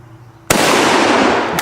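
A single sharp, loud rifle shot from a Mauser Kar 98K fired at hanging bowling pins, a sudden close crack with a short ringing tail after a quiet moment.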